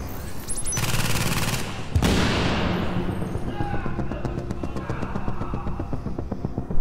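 A deployed turret in a video game fires continuously, rapid machine-gun bursts with booming impacts layered over game effects, staying loud throughout.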